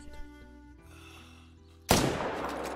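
A single loud rifle shot at a moose in a hunting video game set in mountain terrain cracks out sharply after quiet ambient background, followed by a short rumbling decay.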